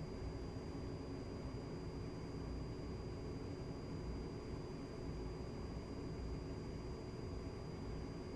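A-10C Warthog in DCS World rolls toward the runway with a steady, even jet engine whine and rumble, constant and unbroken throughout, with no talking.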